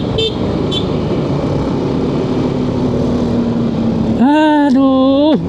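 Steady motorcycle and car engine drone in a traffic jam at a red-light intersection, heard from a Yamaha Xmax scooter, with a low idling hum throughout and a loud, wavering car horn near the end.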